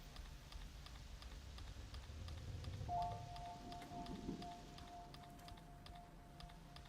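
Steady rain patters through a forest soundscape in an indie video game, a continuous hiss with a sustained tone joining midway. No one talks.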